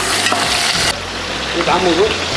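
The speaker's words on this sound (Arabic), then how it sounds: "هسه يشقر اللحم بس وشوفكم ايش راح يصير" Meat browns in a hot pan with a continuous loud sizzle and crackle, close up and steady, with a short stirring scrape midway.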